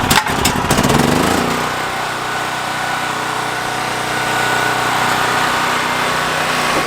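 A motorcycle engine, just started with the choke on, runs at a steady idle with an even mechanical drone and a rougher revving burst at the start, close and loud, with no talking.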